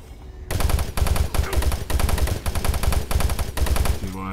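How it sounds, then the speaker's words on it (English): Doom 3 machine gun fire rattles out in several loud, rapid bursts separated by short pauses, each burst a dense run of shots, starting abruptly after a quiet moment and ending with a brief low tail. "Switch to machine gun."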